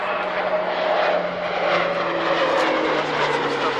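A British Aerospace Jetstream 41 turboprop flies by at the Woodford airshow in 1998, its engines producing a loud, steady roar and whine with no speech.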